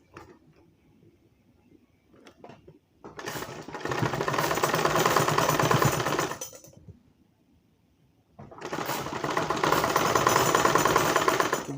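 A sewing machine stitches a blouse in two long steady runs of fast rattling clatter, separated by quiet pauses with faint handling noise.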